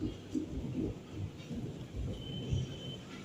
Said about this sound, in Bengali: শুনতে পারলে তো মেঘের আওয়াজ